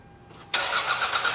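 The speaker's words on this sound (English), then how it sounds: "we're going to get in the car and start it" A car engine cranks and catches after a short quiet stretch, then settles into a steady, close running idle.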